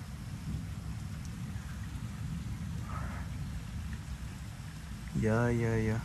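Steady rain falls during an evening thunderstorm in Metz, a dense even hiss of drops held at a constant level, with a brief tonal engine-like swell near the end.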